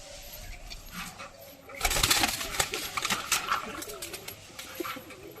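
Domestic pigeons, among them a white golden pigeon kept for sale, coo in a pet loft, a low soft murmur that grows louder with a burst of rustling or fluttering partway through and continues close by.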